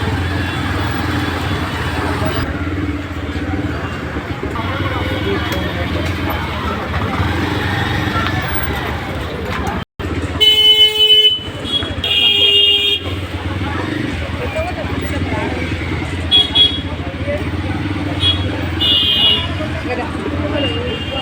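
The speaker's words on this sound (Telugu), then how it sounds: "కానీ ఇక్కడ ట్రాఫిక్ ఫుల్ ఉంటుంది." Busy street traffic in Begum Bazar market, a steady roar of cars and motorcycles with horn toots breaking through, continuous and close throughout.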